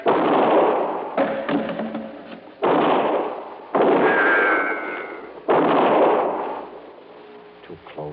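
Gunshots ring out in an old radio crime drama, several loud, abrupt blasts spaced a second or two apart, each trailing off in a short reverberant decay, with brief talk between them.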